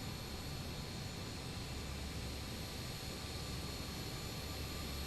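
BAE-146 jet engines at ground idle, heard from inside the airliner as a steady, unbroken broadband roar with a faint high whine, constant and even throughout with no talking.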